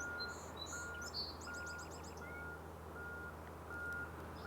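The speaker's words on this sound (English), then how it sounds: "That's the song sparrow." A small songbird sings a quick series of bright trilled notes at a distance, over a constant low rumble and regular faint electronic beeps.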